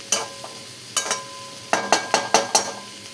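A lid set down on a pan of cabbage and onion-greens sabzi makes several sharp metallic clinks and clatters, spread across the moment in short, close, fairly loud bursts with quiet gaps between.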